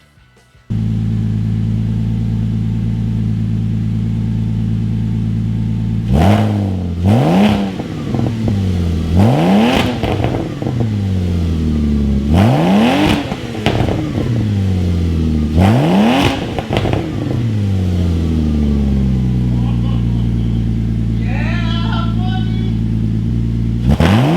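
A Porsche 986 Boxster engine idles steadily, then blips through a series of sharp revs, each falling back with crackling exhaust pops, loud and close with no talk.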